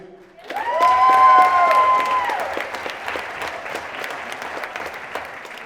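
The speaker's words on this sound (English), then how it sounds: "let's give another round of applause for Joelle and Abby" Guests at a wedding reception break into a swell of applause, with a few bright whoops at the start. The clapping is loud and dense at first, then eases into steady, lighter clapping that carries on to the end.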